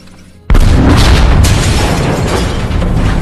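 A loud explosion in a bomb-making scene from the film Munich bursts in abruptly after a quiet moment, then rolls on as a heavy, sustained rumble with a second crack partway through.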